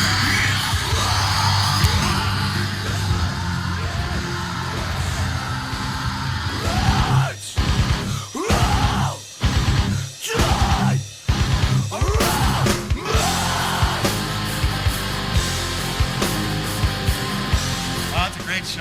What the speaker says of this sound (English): Nobody playing, it's just me screaming.